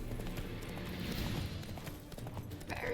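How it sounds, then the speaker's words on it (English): Roach, the horse in the video game The Witcher 3, gallops with quick, even hoof clops that stay steady and fairly near over game ambience and music, and no one speaks. "Run, Roach. Horsey."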